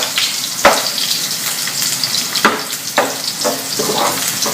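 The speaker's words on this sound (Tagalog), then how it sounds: "Lagay ko na yung garlic muna, guys. Kahit hindi pa mainit ang kawali." Garlic and ginger frying in a wok that is not yet fully hot, steady close sizzle with a few sharp stirring scrapes and clinks, no talk.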